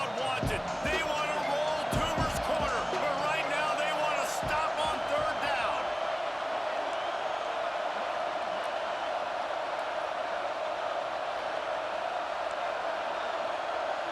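Stadium crowd roaring in College Football 26, a dense steady wash of cheering that holds loud for the whole stretch, with busy commentary-like voices and thumps layered over the first few seconds.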